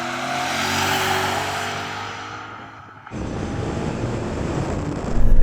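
A BMW M5 E39 accelerates hard in a rolling drag race from about 30 mph in second gear, its engine roaring loudly as it pulls away, then after a gear change it builds again amid heavy wind rush.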